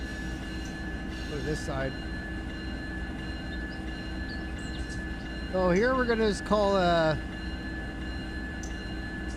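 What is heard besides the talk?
train locomotive in Run 8 train simulator video game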